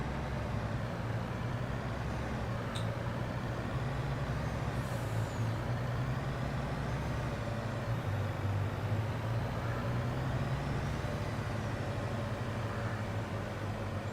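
A truck engine in the Farming Simulator game drones steadily for the whole stretch, with a brief sharp hiss like an air brake release near the start.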